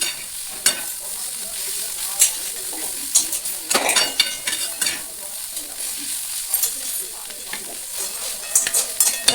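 Kardai greens frying in oil in a pan while a spoon stirs them, giving a steady close sizzle with frequent scraping and clinking strokes against the pan.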